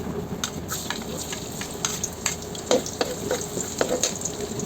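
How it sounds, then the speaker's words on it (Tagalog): Garlic hitting a hot pan for pancit, a close, crackling sizzle punctuated by irregular sharp pops and spatula scrapes against the pan, with no voices. "Ay luluto na tayo ng ating pansit at mainit na ang ating kawali guys. Mag-uumpisa na tayo. Lalagay na natin ang ating bawang."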